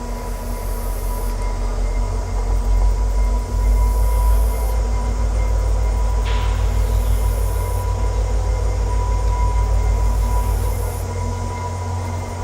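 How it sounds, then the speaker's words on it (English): A train rumbles past steadily with low, continuous rolling noise and a faint high wheel squeal, fairly close and loud throughout. "I think there's a train going by"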